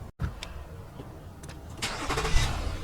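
A Nissan Maxima's engine is started close by: a short burst of starter cranking, then the engine catching and settling into a rough, rising idle within a few seconds.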